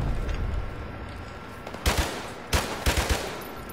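Bursts of G3 rifle fire in the shooter game Modern Warfare Remastered: two short clusters of loud, sharp shots, each a quick string of three or four reports, over a steady low rumble of game ambience.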